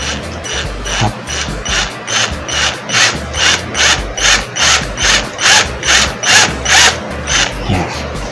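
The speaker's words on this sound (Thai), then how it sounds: "เป็นการล็อกดอกสว่าน" Rapid, evenly spaced ratcheting clicks repeat in a steady rhythm, close and loud, as a cordless drill chuck is twisted tight to lock the bit.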